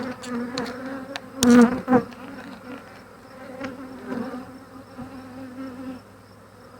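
Honeybees buzz close around an open Flow Hive during an inspection, a quiet droning hum broken by brief louder passes as single bees fly near.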